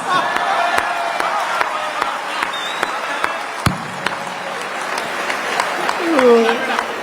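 An audience at a Hindi poetry recital (kavi sammelan) breaks into scattered clapping and sharp whistles, while a voice carries on speaking over the crowd.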